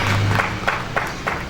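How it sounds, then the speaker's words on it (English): A graduation ceremony crowd in Kampala claps for the Kabaka: a handful of spaced hand-claps ring out over a steady roomy hum, sparse rather than sustained applause. "I think we should clap for the Kabaka"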